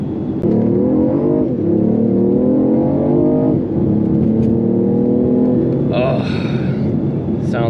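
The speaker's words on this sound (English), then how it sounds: "the engine sound is kind of piped in, it's synthetic" BMW i8 hybrid supercar with a synthetic engine note piped through speakers, a steady droning hum that rises and falls in pitch with acceleration, loud and continuous, with a brief higher whine near the end.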